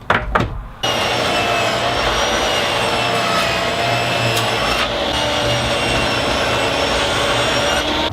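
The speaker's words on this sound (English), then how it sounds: "I'll just take it over to the table saw and I'll rip it down" A table saw rips lengthwise through reclaimed wood from a split crate lid, a brief startup and then a steady, loud, continuous whine with broad noise that holds evenly for several seconds.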